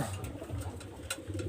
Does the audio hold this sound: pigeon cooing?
yes